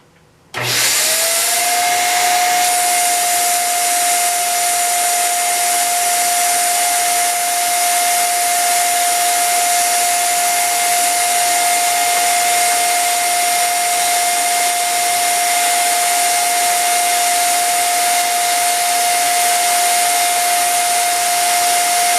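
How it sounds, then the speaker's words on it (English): A vacuum cleaner fitted with a crevice tool switches on and runs over a computer keyboard, a loud steady whine and roar with a constant high tone, alone for the whole stretch. "I'm going to try using the Crevice tool now to see if I can get a little more straight vacuum"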